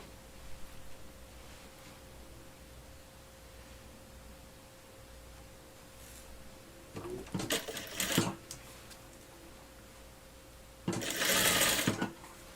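A sewing machine stitches the pinned outline of an easy garden-sleeve blouse in two short, close bursts of rapid mechanical whirring, separated by a quiet pause over a faint steady hum, with no talking.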